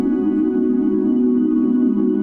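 A synth pad sample transposed to play in D, in an Ableton Live meditation and sound healing setup: a steady, warm, low-mid sustained drone, loud and even throughout, with no voices.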